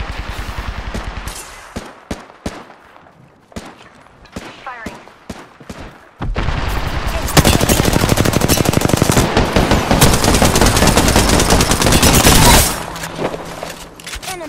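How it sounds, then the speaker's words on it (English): Heavy enemy gunfire rattles through a squad shooter video game: scattered sharp shots give way to a long, loud, continuous barrage of automatic fire that roars for several seconds before cutting off. "The enemies are shooting."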